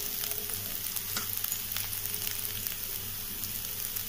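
Bitter gourd fries in a pan with chilli flakes added, giving a dense, steady sizzle up close. Frequent light scrapes and clicks of a spoon stirring it run through the sizzle, and no voices are heard.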